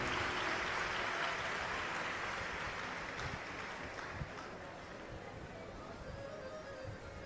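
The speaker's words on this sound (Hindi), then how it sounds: "यजमान परिवार के लिए एक बार जोरदार ताली बजाकर स्वागत, वंदन, अभिनंदन।" Faint, distant clapping from an audience at an outdoor religious discourse gathering in steady rain, a broad wash of applause that slowly fades.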